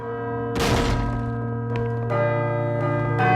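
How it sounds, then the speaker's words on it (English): A bell rings with a sustained, ringing tone and lingering overtones during a tabletop Call of Cthulhu game session, with a couple of sharp strikes renewing the sound, fairly loud and steady. "I should let the bell finish ringing first."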